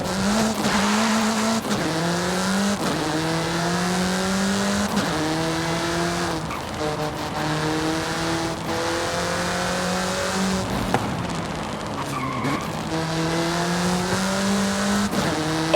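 A racing car in Forza Horizon 5 revs hard through repeated gear changes, each climbing engine whine dropping and building again, loud and close, with tyre squeal mixed in and no talk.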